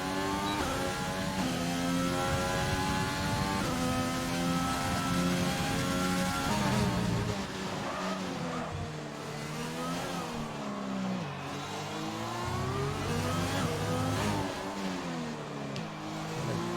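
A McLaren race car in a sim racing game at Autódromo Hermanos Rodríguez, Mexico, its engine screaming loud and steady as it accelerates, then dropping and rising through repeated downshifts and revs into corners.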